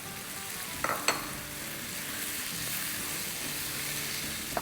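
Grated medium-sized tomatoes frying with onions in a pan on the stove, a steady soft sizzle with a couple of brief clinks of a spoon stirring near the start.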